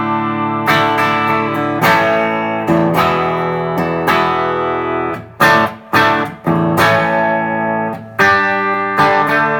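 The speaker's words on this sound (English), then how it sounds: "So I'm starting out with the A channel, which is the cleaner, more classic channel, and the preamp about a third of the way up" An electric guitar plays through the clean A channel of a Marshall JCM900 model 4100 using the bridge pickup, preamp about a third up. Bright strummed chords ring out loud and close, with several sharp stops and restarts midway.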